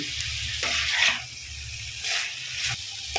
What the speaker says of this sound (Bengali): এবার আমি সামান্য পরিমাণ একটু ক্যাপসিকাম দিয়ে দিলাম সেন্ট হওয়ার জন্য।